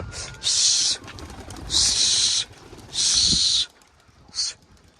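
Young homing pigeons take off from a loft, with three long bursts of fluttering wingbeats and a short final flutter, close and loud over low background cooing.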